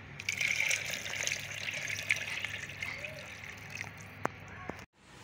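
Plain water pours steadily into cream in a container while making ghee, a soft continuous trickle and splash close by that ends abruptly with a small clatter.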